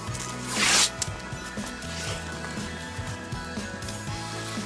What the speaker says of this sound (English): You run more mask along the whole top of the sign writing.